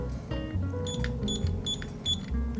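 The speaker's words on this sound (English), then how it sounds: "Oh, we already hear beeps." A repaired calculator's small speaker gives out a series of short, bright electronic beeps in quick irregular bursts, heard close up over a low background hum.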